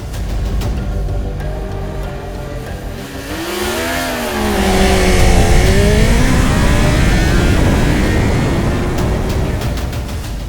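A Yamaha MT-10 super naked motorcycle with a cross-plane crank engine accelerates hard in a drag race, its loud rasping exhaust climbing through the revs and shifting gears as it roars close by and then pulls away.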